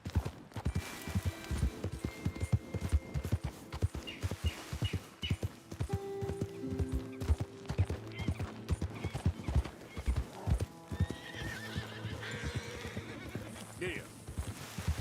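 Horse hooves clip-clop steadily in a Red Dead Redemption 2 game scene, with a horse whinnying and neighing over the rhythmic trot, moderately close, while background game sounds and occasional voices play throughout.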